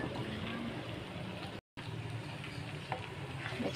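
Chinese spinach dropped into a hot frying pan while cooking Indonesian mee goreng gives a steady close sizzle with stirring scrapes, broken by a brief gap of silence midway.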